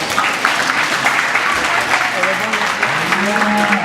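Audience clapping after the second-place placing of a black commercial female at a county FFA alumni livestock show, a steady round of applause filling the space with some voices mixed in.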